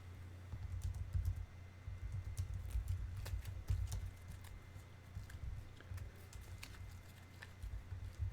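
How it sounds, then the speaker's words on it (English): Sleeved cards for the Marvel Champions card game being shuffled, a steady patter of quick, light clicks and riffles that runs without pause at close range, with no talking. "Best part of any card game,"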